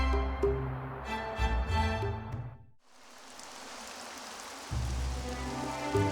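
Rain falling in Xenoblade Chronicles 3, a steady soft hiss of drops that cuts in after music ends and continues alone, with a low tone returning near the end.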